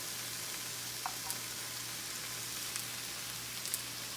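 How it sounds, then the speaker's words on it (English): Vegetables stir-fry in a seasoned iron skillet, a soft, steady sizzle with a faint background hum and a few light clinks of utensils, with no talk. "we're gonna stir fry it"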